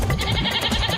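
A cartoon goat bleats in a Motu Patlu episode, one loud, close, wavering call that fills the whole moment with no speech over it.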